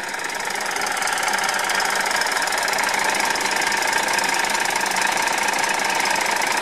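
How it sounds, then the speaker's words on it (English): A 1989 Ford L8000 rollback recovery truck idles on a cold start, its engine producing a loud, steady, rapid knocking rumble. A faint tick from the air compressor sits somewhere in the mix, and no one speaks. "That little tick you can hear is the air compressor."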